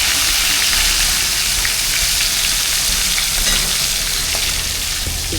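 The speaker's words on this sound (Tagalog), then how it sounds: "Nagprito kasi si Jing dito ng bangus niya." Milkfish (bangus) frying in a pan, a loud, continuous crackling sizzle of hot oil up close, steady throughout with no voices over it.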